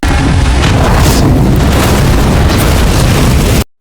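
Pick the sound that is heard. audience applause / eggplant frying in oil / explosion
explosion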